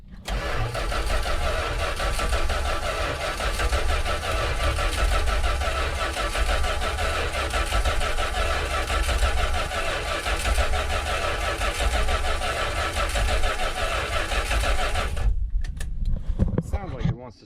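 A 1985 Dodge B250 van engine cranks steadily without catching, a loud continuous starter churn that runs for about fifteen seconds before cutting off abruptly, followed by a few brief clunks.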